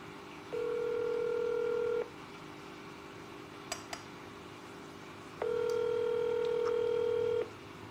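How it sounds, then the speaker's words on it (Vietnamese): Two long electronic tones ring out on a video call, each lasting about a second and a half with a gap between, steady and fairly clear with no talk over them. "Thôi mình video call cho cổ đi."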